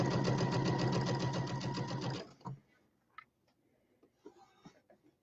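A sewing machine run from its start button stitches a pillow, its steady buzzing whir loud and close for about two seconds before it stops abruptly, followed by a few faint clicks and handling sounds.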